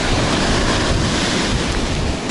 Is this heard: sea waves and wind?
yes